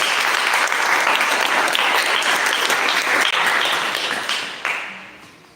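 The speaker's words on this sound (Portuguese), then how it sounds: "Você pode aplaudir o Senhor Jesus por isso?" Applause from a church congregation fills the space, a dense, steady roar of many hands clapping loudly throughout, thinning slightly toward the end with no talk over it.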